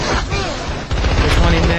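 Rifle fire in the video game SpyHunter Nowhere To Run, a dense, loud burst of rapid shots packed into under two seconds with a brief dip midway.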